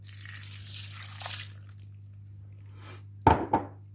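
White wine poured over risotto rice in a Compact Cook Pro multicooker: a soft, splashy liquid rush at the start fades out, then two sharp knocks land close together near the end, over a steady low appliance hum.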